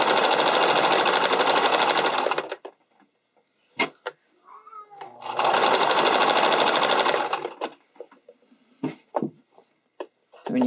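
A sewing machine stitches right along the edge of stretch fabric for an underwire bodysuit, running in two loud, steady bursts of about two and a half seconds each, with soft handling clicks and rustles in the pauses between.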